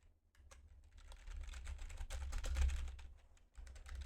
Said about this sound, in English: Let me see if at least I can do anything on the keyboard here.